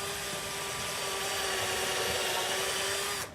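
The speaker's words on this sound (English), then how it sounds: "I'm going to drill some holes to start with" A power drill bores holes in wood on a family farm, a steady loud whine with a constant pitch running about three seconds, then cutting off abruptly.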